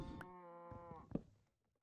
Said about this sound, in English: These cows are just asking to be locked up